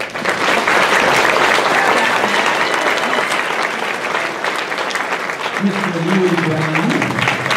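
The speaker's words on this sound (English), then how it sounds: "So we would like to give them a round of applause and a gift to thank them for all of their hard work." Round of applause from a crowd at a marching band banquet, dense steady clapping throughout, while a voice announces a name over it.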